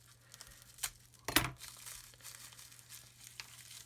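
Taped plastic bag of parts from a Revell 1/48 B-1B model kit being handled and picked open up close, with soft crinkles and one sharp tearing rip, all quiet and with no talk.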